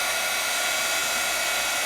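A heat tool blows a steady, even rush of hot air to melt plastic embossing powder, a continuous close hiss with no pauses or voices.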